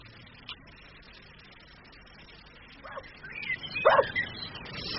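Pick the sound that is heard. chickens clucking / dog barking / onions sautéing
dog barking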